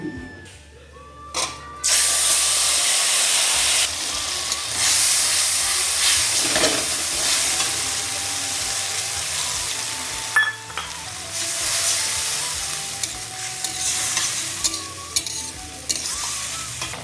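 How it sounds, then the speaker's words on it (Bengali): Coriander leaves, green chilli and garlic paste hit hot oil with black cumin, bursting into a loud, bright sizzle after a quiet start, then frying steadily with occasional stirring scrapes and clicks. "তেলের মধ্যে আমি দিচ্ছি কালো জিরে ফোড়ন এবারে দিয়ে দেবো একসাথে ধনে পাতা কাঁচা লঙ্কা আর রসুন বাটা"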